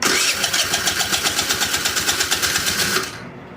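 A GY6 scooter engine cranks on its starter while trying to start, a loud, rapid, rhythmic whirring chug that runs steadily for about three seconds and then cuts off.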